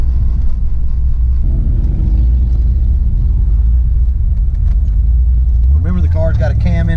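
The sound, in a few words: Foxbody Mustang with cam idling, fluctuating idle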